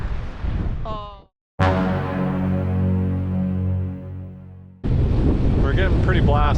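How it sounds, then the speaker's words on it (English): Strong winter wind gusts around a steel expedition sailboat moored in a Newfoundland fjord, loud buffeting noise with a sustained tonal whine in the middle, and people briefly talking at the start and end. "Winds are consistently 20, gusting to about 35."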